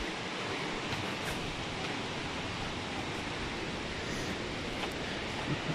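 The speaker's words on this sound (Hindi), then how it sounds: "मेरे ख्याल से यहाँ से बेहतरीन व्यू आएगा वाटरफॉल का" Kegon waterfall in Nikko, Japan gives a constant broad roar of falling water, even and unbroken, heard from a viewpoint with no speech.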